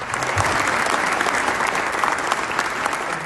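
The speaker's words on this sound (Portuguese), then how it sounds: "Ele foi aplaudido pelos empresários que participavam do evento" Business people applaud at an event, a dense, sustained burst of clapping from a large crowd filling the whole moment at full volume.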